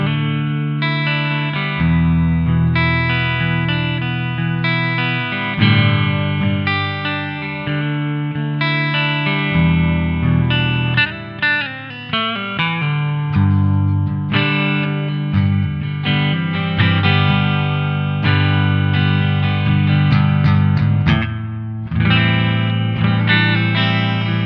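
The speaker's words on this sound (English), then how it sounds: "You can get a lot of different subtle chorus tones out of it." Analog stereo chorus pedal on electric guitar, a wavering, shimmering chorus over strummed chords and picked notes, played steadily and loud with no talking.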